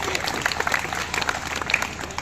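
Loud crowd applause at a political rally welcoming local booth officials, a continuous dense wash of many hands clapping with faint voices mixed in beneath it.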